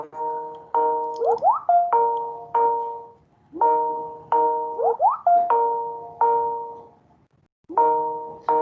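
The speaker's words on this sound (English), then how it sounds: "That's my phone going off." A mobile phone ringing with a melodic ringtone, repeated chiming note patterns in bursts separated by short pauses, clear and fairly loud, with no one talking over it.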